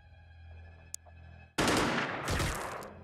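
Sustained burst of suppressive gunfire in the alien-combat strategy game Xenonauts, erupting loud and dense after a quiet ambient stretch and rolling on with a brief dip midway.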